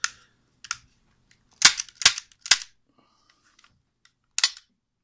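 An Umarex 9XP CO2 blowback pistol fires several sharp, close cracks, a single shot followed by a quick cluster of three and one more after a pause, with near silence between them.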